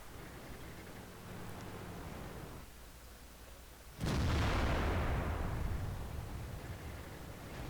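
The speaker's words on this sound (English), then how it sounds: "SU-122-44 shot that just hit the dirt there in front of me" A tank shell from an SU-122-44 slams into the dirt close by in a tank video game, a sudden loud burst cutting through quiet rumble and fading into a long rushing decay.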